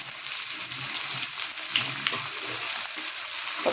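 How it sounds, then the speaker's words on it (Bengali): Potatoes and onions frying together with spices in a pan, giving a steady, close hiss and crackle that runs unbroken throughout with no talk. "আমি আলু পেঁয়াজ একসাথেই দিয়ে দিই, আর ওটা ভাজাও হয়ে যাবে"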